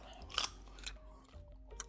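Carrots and dip crunched between the teeth close up: a few sharp, loud bites followed by softer chewing, with no talking.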